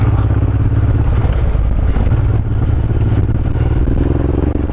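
Transalp or Africa Twin motorcycle riding on the road between national parks, a loud continuous engine drone with wind rush and clatter, steady throughout with no talk.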